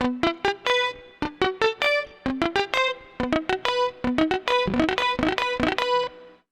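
Electric guitar played through a Boss GT-1 effects pedal with a bachata tone, bright plucked arpeggiated notes in quick rhythmic runs, fairly dry and close, played alone for several seconds.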